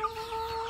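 A single short, faint cluck from a chicken, close by and alone.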